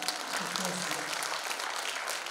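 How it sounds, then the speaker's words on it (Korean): Brief applause from an audience at a Korean lawmaker's legislative report event, a short, fairly faint burst of clapping with voices mixed in. "박수 한번 보내주시죠"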